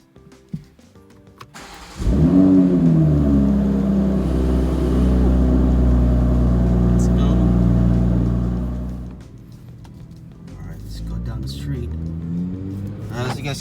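A Toyota Supra A90 engine starts with a loud surge, then holds a steady, throaty idle rumble for several seconds before easing to a quieter running hum, with faint clicks around it.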